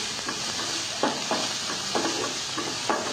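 Chopped onions fry with cumin and mustard seeds in a pan, giving a steady broad sizzle with intermittent stirring scrapes and soft bursts of crackle, close and continuous without voices.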